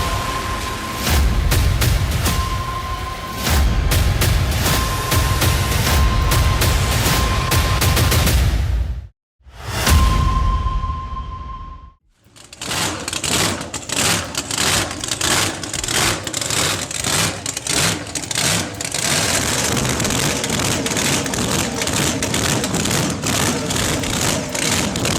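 Rare old engines, including a V8 with custom fuel injection, firing up and roaring, loud and close with rapid staccato bursts and a steady running drone, broken by a brief gap, with no voices.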